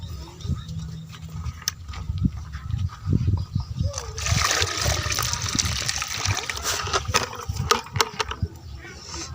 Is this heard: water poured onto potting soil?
yes